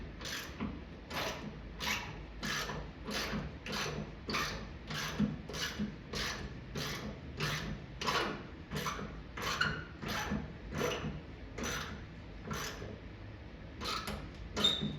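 Ratchet tightening door hinge bolts on a 1964 Chevy Impala, a steady run of about twenty evenly spaced close clicks that speeds up slightly at the end, with no talk.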